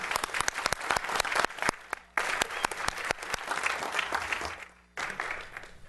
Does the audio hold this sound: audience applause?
yes